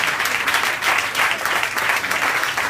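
Studio audience applauding on a French TV talk show, a steady dense wash of clapping that holds evenly for about three seconds with no voices over it.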